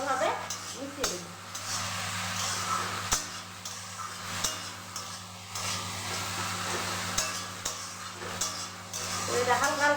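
Okra fries with chopped onion and green chilli in a pan, a steady sizzle broken by regular clanks and scrapes of a spatula stirring against the metal, with faint voice-like sounds at times.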